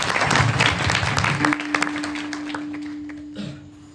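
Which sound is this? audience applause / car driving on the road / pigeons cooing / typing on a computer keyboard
audience applause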